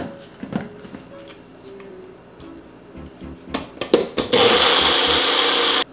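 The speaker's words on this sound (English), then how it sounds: "just put the top of your blender and blend it up" A kitchen blender whirs loudly and steadily, blending a high-protein crème brûlée mixture thickened with cornstarch. Handling clatter and knocks come first, then the motor runs continuously for the final couple of seconds.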